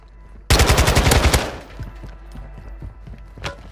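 Call of Duty gunfire: a loud, rapid burst of automatic fire lasting about a second, followed by scattered fainter shots and a later single crack, with no talk.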